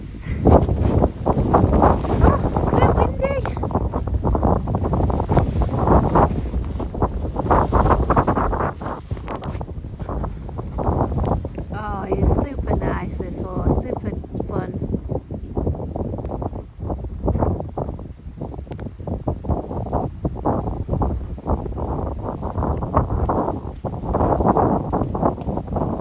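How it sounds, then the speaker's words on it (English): Strong gusts buffet the microphone outdoors, producing continuous loud, uneven rumbling that rises and falls throughout. "Oh, so windy."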